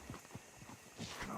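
Horse-drawn wagon in Red Dead Redemption 2, with a steady clip-clop of hooves at moderate distance, about six hoof strikes in a short burst, followed by a rising rumble of wheels and ambient noise.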